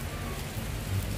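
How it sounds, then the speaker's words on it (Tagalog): Rain falls as a steady, dense hiss of drops on surfaces, even and continuous with a low rumble underneath. "tingnan nyo naman ang panahon, umuulan"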